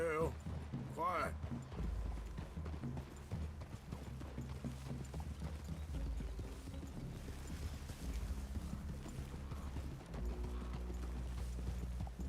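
Horse hooves clop in a steady trotting rhythm in Red Dead Redemption 2, with occasional faint voices and a brief whinny near the start.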